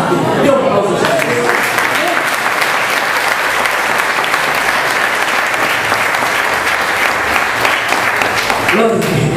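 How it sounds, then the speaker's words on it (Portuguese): Loud, dense applause from a church congregation praising Jesus rolls on steadily for several seconds, with voices and cheers mixed in at the start and end. "Dê um aplauso a Jesus."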